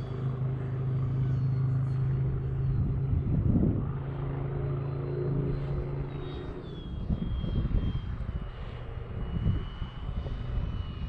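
A light sport aircraft, an Arrows Bigfoot, rolls along a road in strong gusty wind, its engine a steady droning hum with a rising whine at moments and wind buffeting throughout, heard from a distance.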